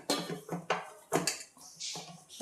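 Sabudana dough for fasting-day farali roti being mixed in a bowl, with several short clinking and scraping bursts of utensil against dish, fairly close and fairly quiet, with no talking.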